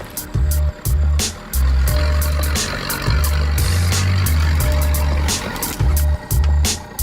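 Sherp all-terrain vehicle pulling away in a very short first gear, a loud close diesel drone with low throbbing engine pulses and repeated sharp clanks and knocks over it.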